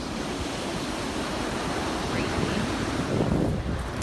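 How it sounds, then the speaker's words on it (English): Strong wind roars across the microphone on a beach with blowing sand while rough waves crash and wash continuously in the background. "You guys see down there how windy it is?"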